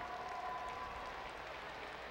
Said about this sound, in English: Give our callers a round of applause